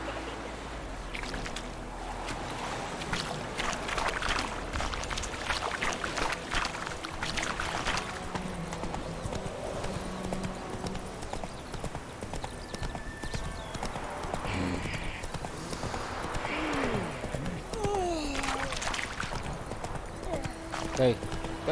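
Roach, the horse in The Witcher 3, gallops with steady clip-clop hoofbeats amid game music and ambient effects, under a speaking voice throughout.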